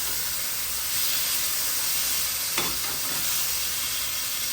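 Meat sears in a pot for makhloobah, giving a loud, continuous hiss and crackle of hot oil with a brief sharper burst partway through.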